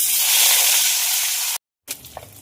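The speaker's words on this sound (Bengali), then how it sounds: "মাছ ভাজার জন্য তেল একদম গরম হয়ে গেছে। এবার মাছগুলো ছেড়ে দেবো।" Katla fish pieces sizzle hard in very hot oil, a loud close crackling hiss that stops abruptly, then returns softer with light scraping.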